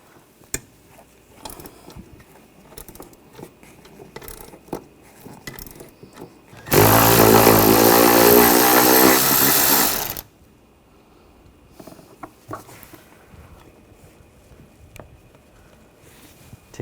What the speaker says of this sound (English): Take those nuts off. Using a 13mm socket,